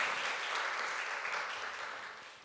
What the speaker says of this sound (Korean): 자, 우리 함께 박수 쳐주면 좋겠습니다.